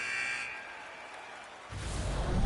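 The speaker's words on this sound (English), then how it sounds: "There's the buzzer. 20 minutes in the books." An end-of-period buzzer in the NHL 26 hockey video game sounds about two seconds in as a loud, sustained blare that holds to the end, preceded by quieter game ambience.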